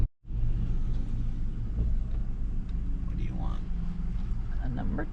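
Steady low road rumble inside a moving car, a continuous drone of engine and tyre noise that holds evenly throughout, with faint brighter scrapes and shifts over the top.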